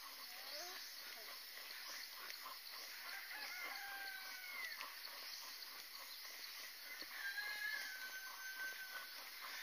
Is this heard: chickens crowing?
yes